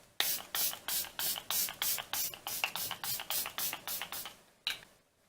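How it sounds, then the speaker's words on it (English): Kat Von D Lock-It setting spray is misted onto a face in a quick run of about fifteen crisp, close pumps with short gaps, then one last spritz after a pause. "I'm going to set my face with the Kat Von D Lock-It setting spray."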